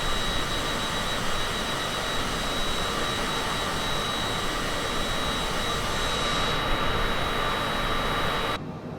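Cessna Citation CJ4 business jet in level flight in Microsoft Flight Simulator 2020, a steady, loud broadband jet engine roar with a faint high tone that drops off abruptly near the end.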